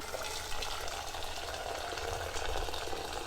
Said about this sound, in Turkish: Tencereye kaynamış su ekliyoruz.